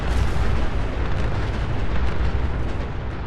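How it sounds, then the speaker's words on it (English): Dense, continuous rumbling explosions from fireworks, napalm and nukes in Fallout 4, a loud unbroken roar of booms and blasts with no voices. "I set off some wonderful fireworks. Napalm and nukes smell wonderful in the morning."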